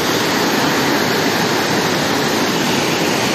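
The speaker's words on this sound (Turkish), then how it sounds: "Şu suyun azgın akışına bakın." Düden waterfall in the middle of Antalya roars as a dense, steady rush of falling water, loud and close, with no break across the whole stretch.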